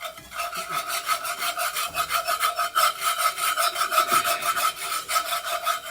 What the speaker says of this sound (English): And as I do this, I'm going to be stirring because I'm making a roux.